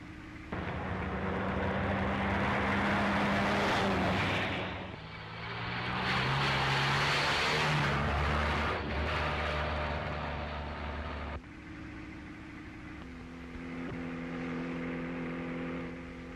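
A 1937-era car speeds along with a loud, steady engine roar that swells and surges, the pitch shifting as it accelerates, running continuously with no talk over it.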